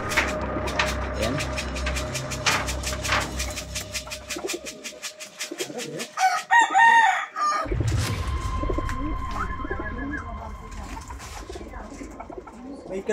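A rooster crows outdoors amid other birds' cooing and chirping, with people talking now and then and a burst of noise partway through.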